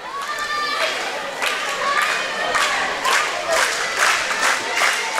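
A wrestling crowd at an SWE Fury event cheers for Christy James, a steady roar of voices rising in repeated swells throughout, with no clear single speaker on top.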